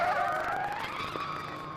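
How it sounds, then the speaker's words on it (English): A race car in a video game locking its brakes and skidding into a corner, a loud rising tire squeal that fades gradually under engine noise. "Big lock up there for the number 99 driver, Abdulaziz Abu Zanada, coming down into turn 2"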